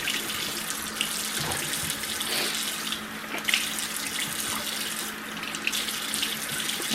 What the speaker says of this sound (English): And I also am going to rinse those off too.